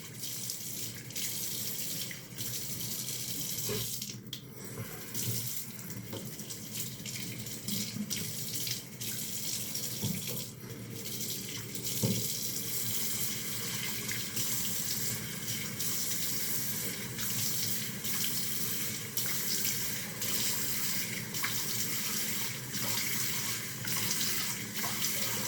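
A bathroom tap runs continuously into a sink while someone washes their face before a wet shave, a steady close hiss of flowing water broken by occasional splashes and small bumps.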